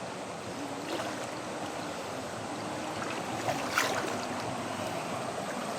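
Steady rushing flow of stream water around someone wading in a forest river, a constant broadband wash at moderate level with small splashes and no talk.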